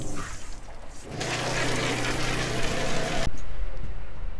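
Spray from a hose rushes onto a fishing boat's deck and drains out through small ports at the bottom, a steady hiss of running water that stops abruptly near the end.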